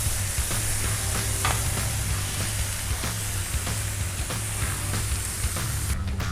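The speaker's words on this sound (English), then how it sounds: "Now our mixture of ribeyes, green peppers, mushrooms, and onions are sizzling." Steady, crackling sizzle of ribeye steak, green peppers, mushrooms and onions frying in a hot pan, close and continuous with occasional scraping stirs.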